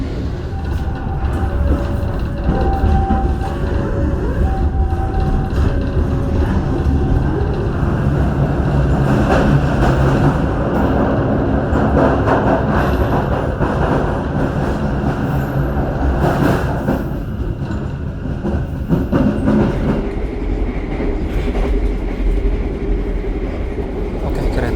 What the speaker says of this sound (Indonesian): Kereta api Wijaya Kusuma sudah berangkat dari stasiun Tugu Yogyakarta ya